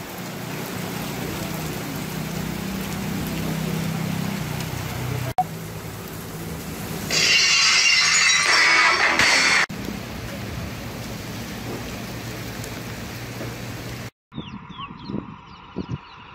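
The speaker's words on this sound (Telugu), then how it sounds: "వర్షాలు పడుతున్నాయి." Untimely rain falls in Veernapalli mandal, a steady broadband hiss of rain that rises to a louder, harsher burst for a few seconds before settling back and cutting to a quieter stretch with faint patters.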